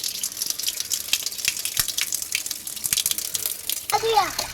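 Tap water gushes steadily into a tray being filled for fish at home in Palakkad, a close continuous splashing rush with a voice briefly heard near the end.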